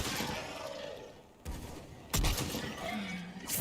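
Mass Effect 3 combat gunfire comes in loud bursts, with a sustained rattling volley, a sudden heavy blast partway through, and more shots near the end.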